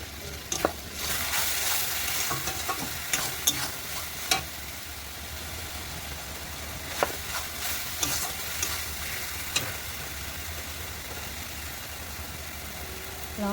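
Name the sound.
spices frying and being stirred for meat curry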